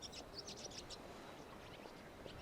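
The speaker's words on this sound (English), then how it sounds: "I can hear the birds and I don't like it." Birds in the Genshin Impact video game chirp in short bright bursts, quiet against a soft ambient background, with no voices present.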